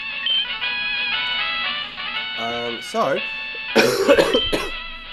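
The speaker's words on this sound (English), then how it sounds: "Excuse the cough." A short burst of coughing cuts through bright electronic game music, close to the microphone.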